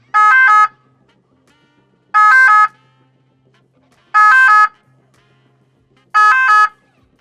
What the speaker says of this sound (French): les véhicules d'intérêt général qui bénéficient de facilités de passage ont une sirène